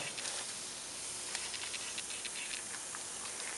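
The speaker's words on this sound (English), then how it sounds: "So what I'm gonna do is throw these on the grill right now." Hamburger patties, flattened thin, sizzle on a grill at hot searing heat, giving a steady close hiss with faint crackles throughout.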